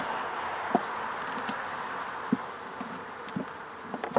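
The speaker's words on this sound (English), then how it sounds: "Little nurse bees." Honey bees, including small nurse bees, drone in a continuous soft buzz around a hive left weakened after robbing, with a few faint taps and knocks nearby.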